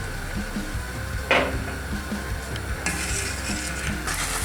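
Cheese halva mixture with syrup stirred in a pan, a low bubbling sizzle under occasional scraping strokes and a brief sharp clatter, close and steady throughout.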